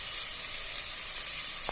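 Onions with salt sautéing in a pan for vegetable biryani, a steady close sizzle and hiss filling the whole short moment without speech.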